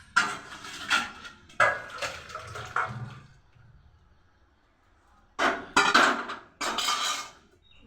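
Pots and dishes are scrubbed and clanked in a kitchen, loud bursts of metallic scraping and clattering separated by a quiet pause, then more scrubbing.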